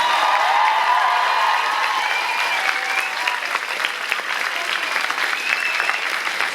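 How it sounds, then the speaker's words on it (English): A large audience at a staff revue gives steady, loud applause with some cheering, a thick sustained wash of clapping that barely fades. "give everybody involved one big last cheer and round of applause"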